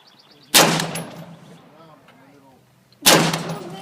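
Two loud, sharp AR-15 rifle shots, fired by a child at a target, ring out about two and a half seconds apart, each decaying over a second, with faint voices in between.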